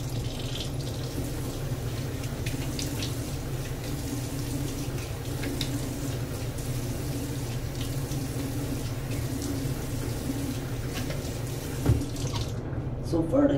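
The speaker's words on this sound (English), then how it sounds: "let me get a final rinse" Running tap water rinses a face after a shave, a steady broadband splash and flow continuing for most of the clip, fairly close, with small clatters and a brief louder splash near the end.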